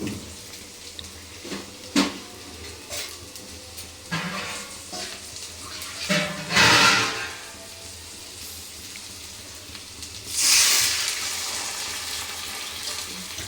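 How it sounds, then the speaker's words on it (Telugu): Water splashes and sizzles into a hot pan in two loud gushes while making puri dough at home, separated by quieter stirring and clinking of utensils. "మనం దీంట్లో నీళ్ళు పోయాలి"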